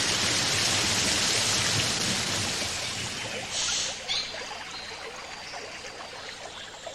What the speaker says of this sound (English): Can rain as much as 2 inches in an hour.